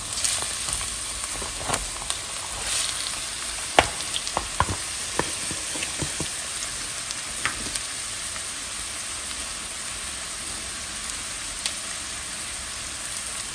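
Half a kilo of ground beef and chopped half onion fry in a pan with a loud, steady sizzle, punctuated early by a few sharp stirring clicks and taps, then settling into an even hiss with no talking.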